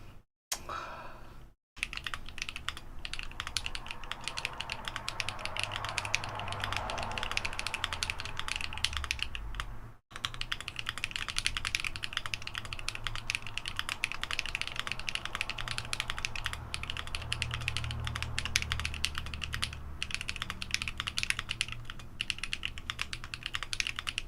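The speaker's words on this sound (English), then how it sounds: "Neo Ergo with glorious Panda switches. They are lubed with melodic clickies on the numro" Steady, fast typing runs throughout on a Neo Ergo keyboard fitted with lubed Glorious Panda switches. The keystrokes are dense and close, and there are two brief pauses near the start and one near the middle.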